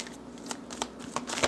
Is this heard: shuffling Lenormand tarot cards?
yes